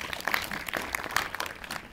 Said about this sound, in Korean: 박수로 시작을 축하해 주시기 바랍니다